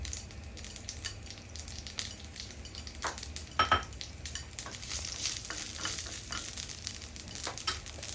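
Mustard seeds and dried red chillies fry in hot oil for a Kerala-style papaya thoran, giving a steady close sizzle with crackling pops and occasional utensil clinks and stirring, with no talking.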